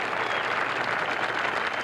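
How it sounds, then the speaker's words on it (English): Audience at a professional bowling tournament applauding, a dense, steady wash of clapping throughout, fairly near and uninterrupted. "He deserves a big round of applause also."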